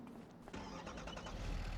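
A truck engine starts up on a snowy farm in a farming simulator game, catching after a brief crank and then settling into a steady, low idle as it warms up.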